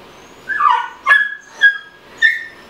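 A dog whimpers and yips in several short, high-pitched bursts indoors, close to the microphone, with brief pauses between cries.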